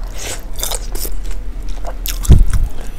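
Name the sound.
biting and chewing spicy bakso aci meatballs, mukbang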